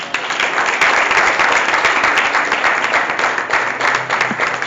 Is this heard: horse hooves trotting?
no